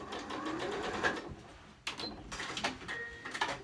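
A sewing machine stitches a pillowcase seam in quick close whirring bursts, pausing briefly midway before running again, with a soft mechanical hum under the motor.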